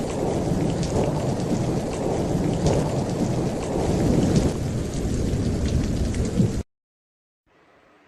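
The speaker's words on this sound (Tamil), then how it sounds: "ரொம்ப இடியும் மின்னலுமா மழை மேகங்கள் அதிக மழையை மிட்டு மகாராஜா காட்டில் பொழிஞ்சுது." Heavy rain pours down during a thunderstorm over a forest, with rumbling thunder rolling beneath the dense downpour before it cuts to near silence and a faint return.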